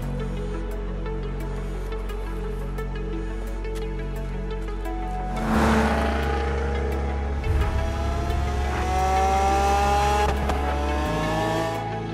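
Car engines in a Forza Horizon 3 video game rev and roar continuously, rising in pitch as they accelerate, with a loud burst midway and steady engine drone throughout.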